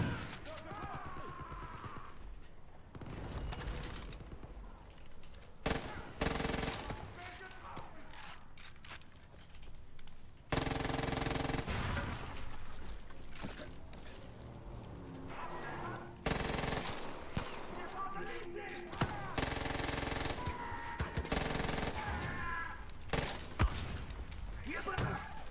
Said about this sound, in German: zu viele Schüsse, nein, nur ein Schuss und ich bin tot